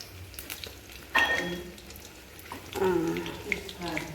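Pumpkin flower pakoras fry in a temple kitchen, a steady low sizzle with a few louder bursts as batter hits the oil, partly under nearby talk.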